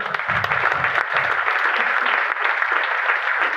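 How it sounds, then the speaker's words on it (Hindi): A seminar audience bursts into loud, sustained applause, dense clapping filling the room for several seconds. "एक बार जोरदार तालियां।"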